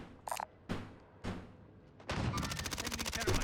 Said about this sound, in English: Good shots on the Krig.